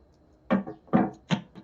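Three quick papery riffles of shuffling cards, each a short burst with brief pauses between, close by and fairly clear.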